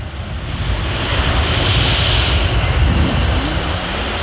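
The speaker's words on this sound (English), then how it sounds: "water line as the tide is coming in." Ocean waves washing in at the water line on an incoming tide make a loud, steady rushing surf that swells and recedes, heard close by with no voices.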